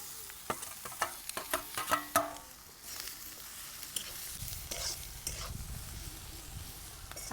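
Ivy gourd (tondli) frying in a pan with chilli powder and coriander powder, a soft sizzle under quick scraping clinks of a spoon stirring early on, settling into a quieter steady crackle.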